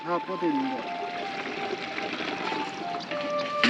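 Water sprayed onto seedlings on a farm plot, a continuous hissing pour heard beneath people talking nearby, steady and moderately loud throughout.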